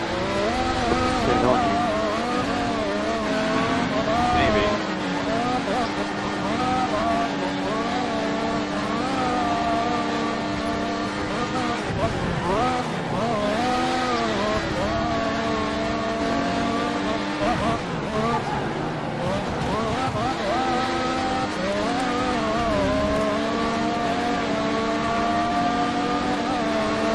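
Race car engine held at full revs in a racing video game, round at Austin, a loud continuous high-pitched whine with shifting harmonic sweeps, running throughout under faint commentary voices.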